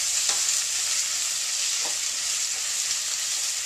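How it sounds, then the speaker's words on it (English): A chicken and vegetable stir fry sizzling steadily in a pot, a loud, even hiss running the whole time with a few faint stirring clunks. "Don't want to neglect my stir fry too much."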